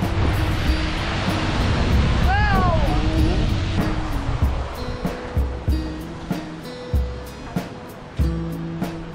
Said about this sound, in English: Let's go look at the river real quick.